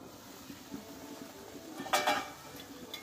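A metal lid lifted off a pot of stuffed flat beans cooking on the stove, giving a short clink and scrape midway through, surrounded by quiet low kitchen background noise.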